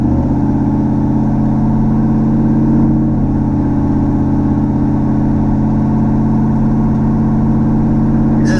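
A car fitted with a swapped L83 Gen V V8 engine drives along steadily, its loud, continuous mid-range engine drone rising and easing slightly through gear shifts with no speech.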